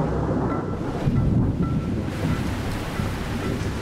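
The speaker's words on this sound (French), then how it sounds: "On va se prendre un gros orage sur la tête." A steady, broad roar of a thunderstorm in the Amazon, like heavy rain and rumbling thunder blended with wind, continues without any voices.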